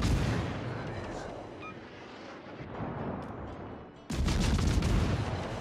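Heavy gunfire from the USS Worcester, a Tier X American cruiser in World of Warships, rumbling continuously in dense overlapping booms, with a louder, sharper burst of salvos near the end.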